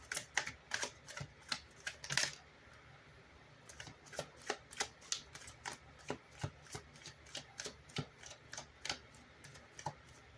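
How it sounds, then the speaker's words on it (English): Cards are shuffled in rapid, crisp riffles, a steady series of sharp flicking bursts at close range. "I'm going to shuffle for it."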